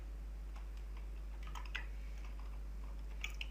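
Quiet computer keyboard typing while filling in a web form for a full stack web development course: a few faint, scattered key clicks against low background hum, with no talking.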